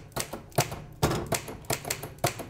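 Keys struck on a very heavy desktop typewriter, six or so firm clacks in an uneven rhythm, close up and alone.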